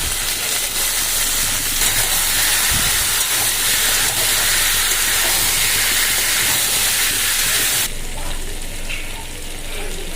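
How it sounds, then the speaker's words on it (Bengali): Onion, tomato, green chili, potato and pumpkin sizzling together in hot oil, a loud, dense, continuous hiss and crackle close by that eases slightly near the end. "এই তেলের মধ্যেই পেঁয়াজ টমেটো কাঁচা লঙ্কা একসঙ্গে দিয়ে দেবো আলু আর কুমড়ো দিয়ে দিলাম"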